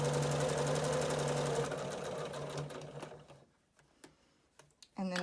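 Sewing machine back-stitching a seam on a reversible fabric surgical cap, loud steady rapid stitching that runs for about three seconds, then slows into a few short bursts as the machine reverses, stops and starts again.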